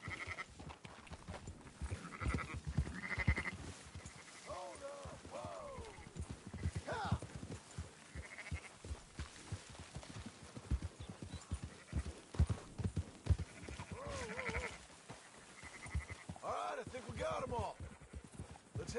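Horse hooves clip-clop steadily while sheep bleat around them on a ranch in Red Dead Redemption 2, with voices talking over the animals throughout.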